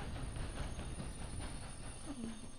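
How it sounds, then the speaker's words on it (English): A train in the video game Red Dead Online rumbles along with steady rail noise and a brief wheel squeal, loud and continuous without speech. "The train!"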